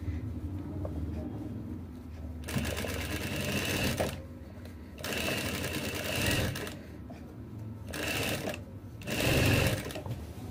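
Electric sewing machine stitching pleats into a salwar, running in four loud, rapid bursts separated by short pauses while cloth is repositioned.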